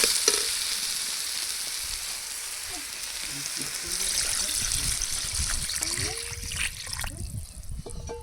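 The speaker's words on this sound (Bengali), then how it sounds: "এবার জল দিয়ে দেবো" Water poured into taro (man kochu) curry frying in a pan, a steady close sizzle with trickling and stirring, no talk.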